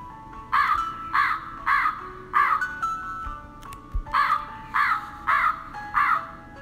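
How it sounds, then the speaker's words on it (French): A crow caws in a storytelling setting, eight loud, evenly spaced harsh caws repeated rhythmically over a faint low background. "Fier comme un paon, le corbeau voulut montrer sa belle voix."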